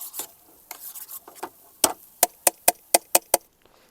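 A spoon stirs bhujji in a pan on a small campervan stove, first in soft scrapes and sizzles, then in a quick, regular run of sharp clacks against the pan, close by and without speech.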